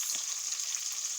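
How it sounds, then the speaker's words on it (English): Beans fry in hot oil in a pan, giving a faint, steady sizzle with a brief stir near the start. "I'm cooking the beans."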